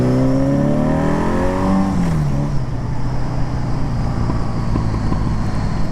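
A 1975 Honda Goldwing engine with an upgraded DynaTek ignition idles high, around 2,000 rpm, after a throttle adjustment. Its loud, close, steady drone drops in pitch early on, then settles into an even hum.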